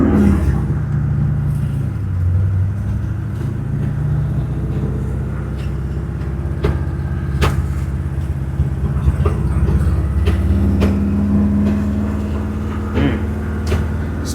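A 1955 Chevy with a swapped engine pulls away in first gear, its engine rumbling low and steady for the whole stretch, close and fairly loud, with no one speaking.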